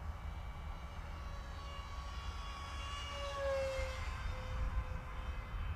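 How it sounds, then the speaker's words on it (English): A Skyhunter FPV RC plane drones overhead with a steady whining motor tone that rises and falls in pitch as it passes, moderately distant. "Cool little plane."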